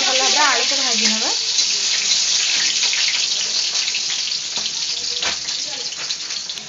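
Potatoes frying in hot oil in a pan while a chicken dish is cooked, giving a steady, loud, hissing sizzle throughout, with a few brief clinks and a voice speaking over it at the start.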